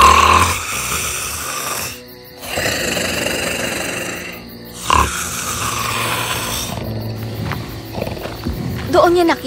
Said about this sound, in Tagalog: sa sobrang lakas ng hilik niya, nayayanig ang buong kuweba